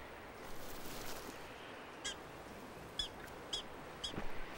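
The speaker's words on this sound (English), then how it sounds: "It sounds kind of like a dog yapping. Hear that? That's a prairie dog." A prairie dog's alarm call: several short, sharp yapping calls ring out at intervals over steady outdoor background noise, moderately near and fairly loud.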